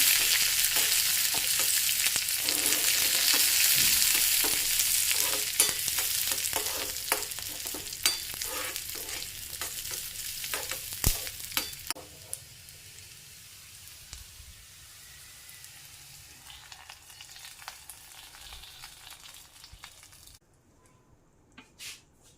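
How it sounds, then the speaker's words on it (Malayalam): Chopped shallots, two dried red chilies and curry leaves fry loudly in hot oil in a pan, sizzling hard at first with stirring clicks, then fading to a softer crackle. "ചെറിയ ഉള്ളി കട്ട് ചെയ്ത് വെച്ചിട്ടുണ്ടായിരുന്നു അതും രണ്ട് വറ്റൽ മുളകും ആവശ്യത്തിന് കറിവേപ്പിലേ ഇട്ട് കൊടുത്തു ഒന്നടക്കി കൊടുത്തേക്കാം"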